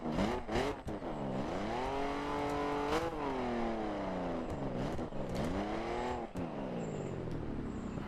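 A car fitted with two oversized exhausts in The Crew video game revs hard and loud, its engine note climbing and falling through repeated throttle blips, with tire noise between pulls and no talking.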